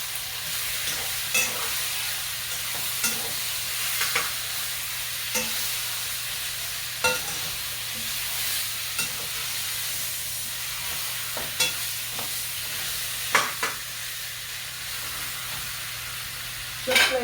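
Food browns in a hot pan with a steady broad sizzle, broken by occasional stirring scrapes and clicks, close and continuous with no talking.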